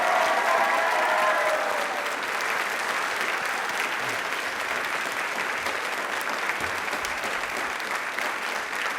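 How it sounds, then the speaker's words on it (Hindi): A studio audience at a televised Rajasthani quiz show applauds loudly and steadily, a dense unbroken wash of clapping that holds at full strength for the whole stretch, with no voices over it. "एक बार जोरों से शोरों से अपने लिए तालियां बजा दीजिए"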